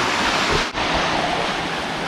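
Rushing, turbulent mix of seawater and rainwater at an open fishing spot, a steady loud broadband roar of surging water that continues unbroken throughout, with only a brief dip partway.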